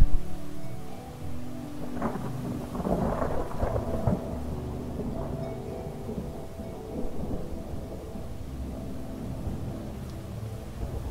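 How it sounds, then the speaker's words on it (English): A dust storm in the video game Skywind blows over broken, muddy ground as a steady roar of wind, with low rumbling gusts swelling and fading throughout. "This dust storm doesn't help you in your navigation,"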